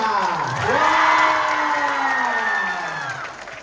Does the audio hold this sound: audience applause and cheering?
yes